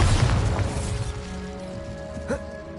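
A Bombarda explosion spell in a Harry Potter video game lands as a loud burst and crash at the start, then decays into a ringing, shimmering tail with a smaller pop near the end.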